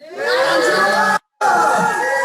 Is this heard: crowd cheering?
yes